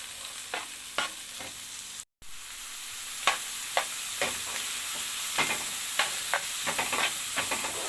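Onions frying in oil with a spoonful of ghee in a pan, stirred with a spoon: steady close sizzle with repeated scraping strokes and a brief dropout near the start, no talking.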